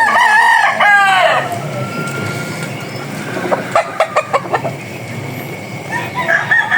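Chickens cluck and a rooster crows, several birds close by, with harmonic calls early on and a run of short clucks later.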